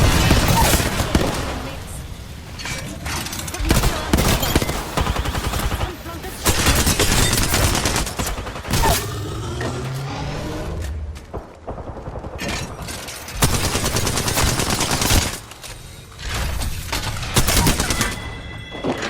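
Frag and thermite grenades bursting amid rapid gunfire in Apex Legends, a battle royale shooter, with dense automatic fire and blasts throughout, loud and close, while a player talks over the combat.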